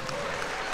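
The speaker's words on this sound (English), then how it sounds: "Oh, who's applauding?" A crowd applauds at a World Wallball Championship semifinal match, a brief, dense wash of clapping at an even level.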